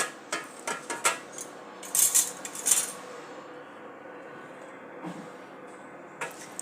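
A metal couscoussier pot being fetched and handled in a home kitchen: scattered light metallic clinks and clatters, a cluster of brighter knocks in the middle, then quieter handling noise over a soft background.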